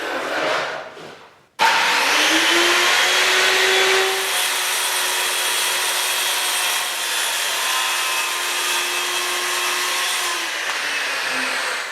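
Circular saw running along a homemade wooden track guide strip to cut a board, a loud continuous whining cut with a rubbing, vacuum-like roar for about ten seconds after an abrupt start, close and alone without talk.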